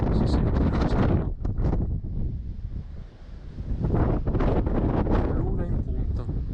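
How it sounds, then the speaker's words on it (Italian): Wind blows across the summit of Sasso Simone in gusty rumbling buffets against the microphone, with a person speaking through much of it. "In cima al Sasso Simone da vento, perciò si sente fresco."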